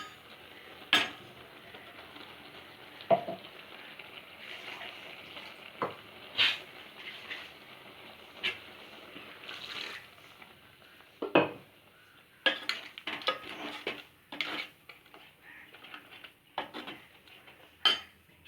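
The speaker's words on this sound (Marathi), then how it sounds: "आता त्याच्यामध्ये आपण हा वाटलेला मसाला घालायचा आहे" Ground masala goes into a simmering Malabar spinach curry and is stirred, giving intermittent spoon scrapes and clinks against the pot over a faint sizzle, close and fairly quiet with irregular taps throughout.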